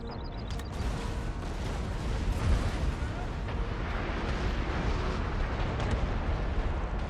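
Cannon artillery in the Napoleon: Total War video game booms in a dense, continuous barrage of blasts and rumbling battle noise, loud and sustained throughout.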